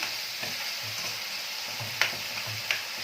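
Onion, tomato and chili pepper sizzle steadily in a pan, a constant close frying hiss broken by a few soft stirring scrapes and light clicks.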